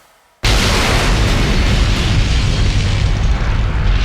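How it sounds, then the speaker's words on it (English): A massive explosion of a gunpowder ammunition magazine in a stone fort bursts in after brief quiet, then a loud, sustained roaring rumble persists without fading. "Some 250 men were killed or injured by the blast, including Pike"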